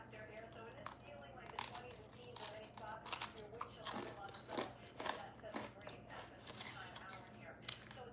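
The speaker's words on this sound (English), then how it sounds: "Lettuce is crunchy." Crunchy lettuce being chewed close up, with a series of crisp, irregular bites and crunches over a steady low hum.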